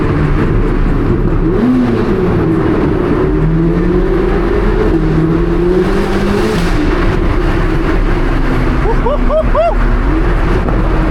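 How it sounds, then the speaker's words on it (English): A 1064 hp Chevrolet Corvette C8 ZR1 revs up and down repeatedly at night downtown, the exhaust roaring with rising and falling pitch, close and sustained. "So much air comes out that exhaust is crazy."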